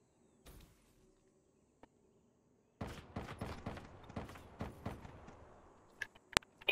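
Gunfire in the video game Call of Duty: Black Ops III, a quiet lull broken by a burst of rapid sharp shots, then a few louder separate cracks near the end.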